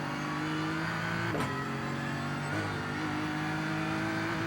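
BMW M4 GT3 race car in a racing video game on the Nordschleife, its engine loud and constant as it brakes and downshifts, with two sharp gear changes dropping the pitch.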